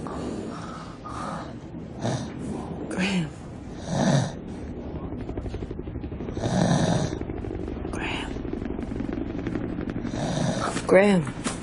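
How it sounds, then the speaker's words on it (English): A person snores in a run of rough, irregular snorts and breathy rasps, several loud bursts spaced a second or two apart, close up with quiet murmured voices between them. "You're snoring."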